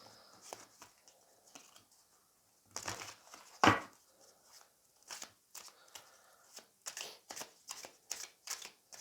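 A deck of tarot cards riffled and handled close up, with a sharp burst of shuffling, one loud slap of the cards, then a run of quick flicks and snaps as cards are drawn.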